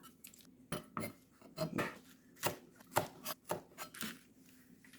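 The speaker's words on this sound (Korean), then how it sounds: "다음으로 이제 파를 좀 넣어줄 건데요. 이렇게 가운데를 좀 잘라줘요." A knife chopping green onion on a cutting board, a series of close, crisp knocks in an uneven rhythm with some quick runs of cuts, alone and fairly faint.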